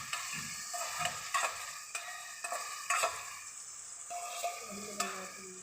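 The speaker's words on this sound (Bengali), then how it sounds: "এইখানে আদা রসুন বাটা ছিল, এরপরে এই মশলাটা এর সঙ্গে মিক্স করে দিচ্ছি।" Spice mix being stirred into ginger garlic paste in a pan for chili soybean, heard as rhythmic spoon scrapes over a light sizzle, close but quiet.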